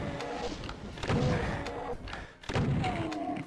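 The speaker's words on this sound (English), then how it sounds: "So fire, super shotgun." The super shotgun in DOOM fires in heavy booming blasts, about three, each followed by a short reload clatter, loud against game ambience.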